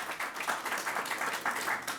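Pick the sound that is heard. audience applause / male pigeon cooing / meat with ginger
audience applause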